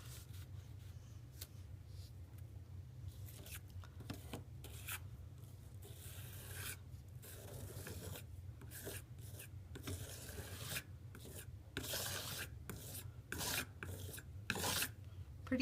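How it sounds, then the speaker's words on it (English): A spatula scrapes paste across a canvas in short, quiet rasping strokes, close and irregular, with brief pauses between passes and no talking. "use my spatula to apply the paste onto this canvas"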